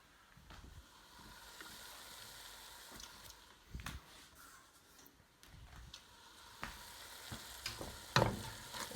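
Garlic sizzles in a pan while being stirred for a turkey bolognese, a soft, continuous frying hiss broken by the scrape and clack of the spoon against the pan.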